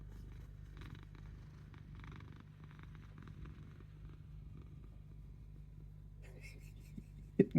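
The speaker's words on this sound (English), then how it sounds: "Listen to the purring." A cat purrs close by in a soft, steady low rumble, with faint rustling and a brief louder knock at the end.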